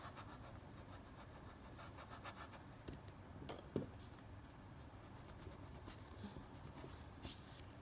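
A pencil eraser rubs back and forth across paper while trimming excess construction lines in a geometry drawing, a soft continuous scrubbing with a few small bumps, close and alone.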